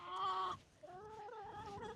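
Chickens on a farm give a loud run of nasal, harmonic clucks and calls, then a shorter pause and a second, steadier stretch of calling, close by with no talk over it.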